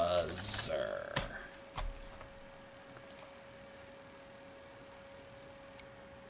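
A buzzer driven by an Arduino plays a steady, piercing tone that holds for several seconds before cutting off abruptly, with a few faint clicks and a brief voice at the start.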